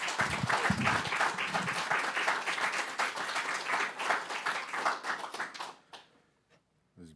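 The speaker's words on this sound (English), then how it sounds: "I think we should clap it up again for everybody that read." Audience applause after a poetry reading in a reading series, dense steady clapping filling the room before thinning out into a few scattered claps and fading to quiet.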